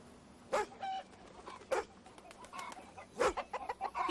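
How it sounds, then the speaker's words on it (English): Chickens in a farm setting: soft, fairly distant clucks and scattered bird calls, intermittent and faint over a quiet outdoor background. "Don't you scare those chickens, Dooley."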